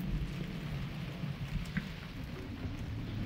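Steady rain falling outdoors during a thunderstorm, a soft continuous hiss with faint low rumbling beneath, quiet and distant, with no voices.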